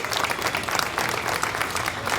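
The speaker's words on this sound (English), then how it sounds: "Let's give them one big round of applause." Audience applause at a cattle showmanship event, a dense, steady clatter of many hands clapping together, close and continuous without voices.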